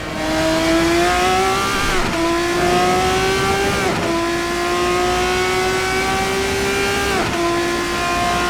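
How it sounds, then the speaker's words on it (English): A race car engine in Assetto Corsa, a loud steady high whine that climbs through the gears with sharp shift breaks roughly every two seconds, close and continuous with no talk. "That was an unnecessary downshift, but that's okay."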